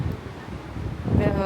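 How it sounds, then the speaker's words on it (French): Wind gusts across the open deck of the Disney Dream cruise ship, a rough, buffeting low rush into the microphone that swells toward the end of the brief moment. "Alors aujourd'hui, il y a un petit peu de vent."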